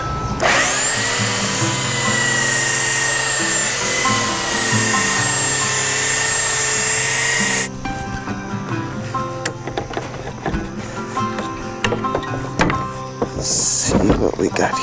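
Power sander working wood for a backyard patio bar build, a loud steady droning whine for about seven seconds that cuts off, followed by scattered knocks and handling clatter.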